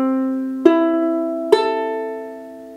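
Ukulele tuned G C E A, its open strings strummed in three even strokes, each chord ringing out and slowly fading, close and clear with no voices.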